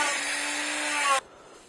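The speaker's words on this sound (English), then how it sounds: "I'm going to take this edge, with my Dremel, and let's go just knock the edge down a little bit." A Dremel rotary tool grinds down the edge of foam cosplay armor in one continuous, high-pitched whirring buzz up close, then stops abruptly.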